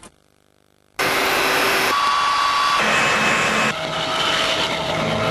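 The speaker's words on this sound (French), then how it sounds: "il est le premier sèche-cheveux qui lisse et sèche vos cheveux en un seul geste" A Calor Lissima straightening hair dryer blows in a French TV advert, switching on abruptly after a quiet start into a loud, steady airy roar that shifts in tone as the setting changes.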